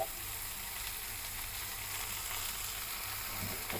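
Boiled potatoes fry in hot oil for Bengali pahari aloo dum, giving a steady, dense sizzle that holds close and even throughout, with no voices.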